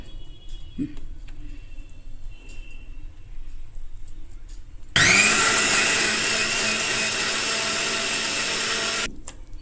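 After a stretch of quiet kitchen sounds, a mixer grinder roars loudly for about four seconds grinding grated coconut and banana stem chutney, then stops abruptly.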